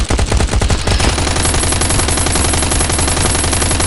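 Rapid automatic gunfire rattles out in a survival shooter game, a dense, loud burst of repeated shots that keeps going without a break.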